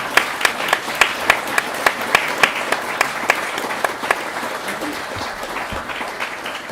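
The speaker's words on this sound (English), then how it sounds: "I think that reading needs a big applause." An audience at a C++ Brain Teasers book launch applauds after a reading, with sharp, distinct claps at the start that blend into steady, moderately loud applause which gradually thins toward the end.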